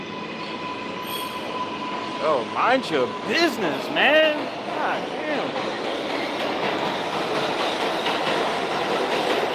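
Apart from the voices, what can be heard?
train passing by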